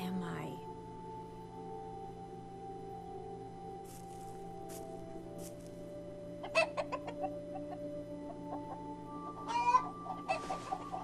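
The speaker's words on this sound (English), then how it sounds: "Chickens?" Hens in The Good Life video game cluck in a few short bursts over a steady hum of game music, with a brief gap of near-quiet beforehand.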